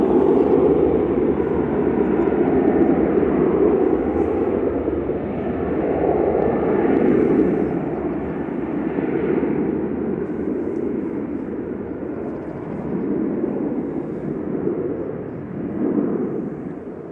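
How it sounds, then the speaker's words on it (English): An Airbus A380 departing Manchester Airport makes a loud, sustained jet roar that swells and slowly fades over many seconds, heard from the ground with a broad rumbling low end. "the A380 is departing now"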